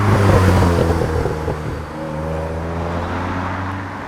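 A DeLorean DMC-12 with a 2.8 litre V6 and an aftermarket sport exhaust drives along, giving a deep, steady droning rumble close by that is loudest at the start and then settles into an even cruise, with no talking.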